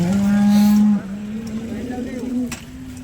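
A cow at a village cattle market lets out a loud, close moo lasting about a second, followed by quieter lowing and general market background noise.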